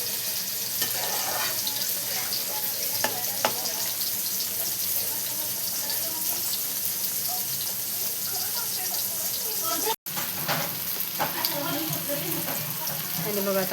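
Tomato frying in hot oil for a garlic-chilli thecha, a continuous close crackling sizzle with stirring clatter, one brief cut partway, and a voice talking at times.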